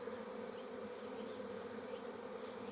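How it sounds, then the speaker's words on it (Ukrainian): A bee swarm arriving at an evening bait trap near a finished-blooming acacia, a dense, steady, continuous buzzing drone of many bees, loud and close, with no voices. "Шість годин вечора прилетів рій."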